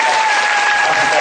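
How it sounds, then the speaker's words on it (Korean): Audience applause at a university student presentation contest, a dense, steady wash of clapping filling the short moment at full loudness with no voices on top. "어떻게 박수 한번 주시나요?"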